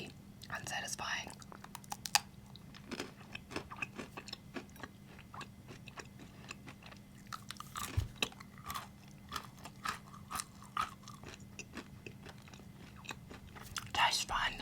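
Close, crisp crunching and chewing of a salty biscuit at a tea party, with sharp bites and irregular crunches repeating throughout under soft whispered talk.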